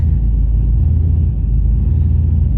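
A vehicle pulls forward in drive with a loud, steady, deep rumble that holds at an even level for the whole moment.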